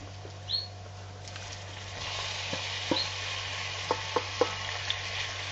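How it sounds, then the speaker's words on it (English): King prawns with tails on hit hot olive oil in a pan and start a soft, low sizzle with a few small pops over a steady background hum. The sound is quiet overall. "Now, we add the prawns, of course."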